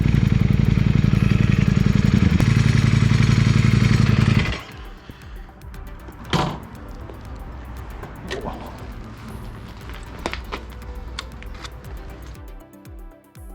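A 2023 Ducati Multistrada V4 S motorcycle roars loudly up close for several seconds, then cuts to a quieter idle with scattered clicks and mechanical clatter.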